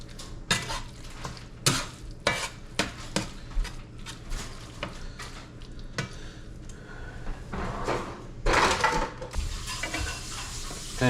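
A spatula scrapes and clacks repeatedly against a greasy pan as food with egg sizzles, irregular sharp knocks over a steady frying hiss, close up and without speech.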